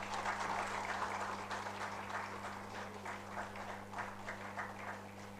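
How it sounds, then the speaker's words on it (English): Applause from a conference audience continues as a guest is invited up, clapping of moderate density over a steady low hum, fairly distant and even throughout. "I think the round of applause can continue."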